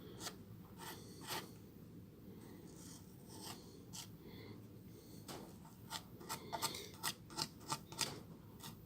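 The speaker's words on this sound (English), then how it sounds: "Remove the excess with a knife, with a plastic knife." A plastic knife scrapes excess filler off a rusty-finish sculpture during a repair: irregular dry scratches that speed up into a quick, rhythmic series of close strokes near the end.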